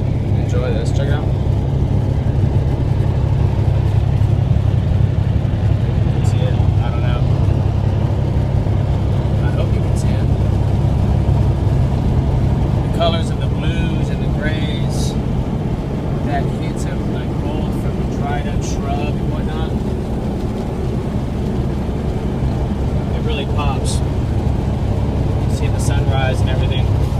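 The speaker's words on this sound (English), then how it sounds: "you probably hear the truck, but there's times where I really zone out the truck, the noise of the truck" Continuous low engine rumble and road noise from inside a truck, steady and loud for the whole stretch, with faint clicks and rattles on top.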